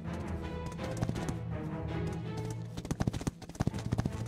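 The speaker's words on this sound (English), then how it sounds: "I hear horse hooves." Rhythmic clip-clop of horse hooves over a dense, busy soundscape in the game Totally Accurate Battle Simulator, the hoofbeats growing sharper and more distinct toward the end.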